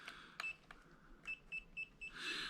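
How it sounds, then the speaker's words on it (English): A series of short electronic beeps from FPV goggles searching to bind, repeating in quick pulses, a few high chirps spaced irregularly then clustering, over faint room noise. "So it's beeping, indicating that it's searching"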